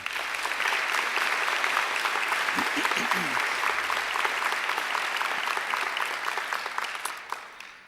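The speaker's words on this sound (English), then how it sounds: "They deserve a great round of applause too." Sustained applause from a large crowd, steady and dense clapping that carries on for several seconds before tapering slightly at the end.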